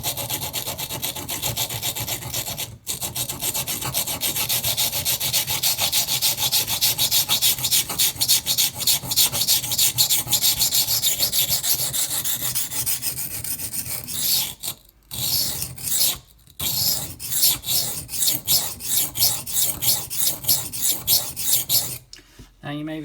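Budget knife being sharpened on a coarse whetstone, a continuous gritty rasping scrape in rapid back-and-forth strokes, close and loud, with brief pauses near the end.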